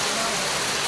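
Heavy rain pours down steadily at a house under construction, a dense, even hiss filling the whole short moment with no break.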